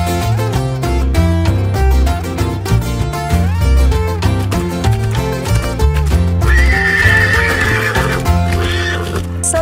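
Horse neighing at an equestrian society event, a drawn-out whinny rising above a loud, dense music track with steady rhythmic beats and clip-clop sounds.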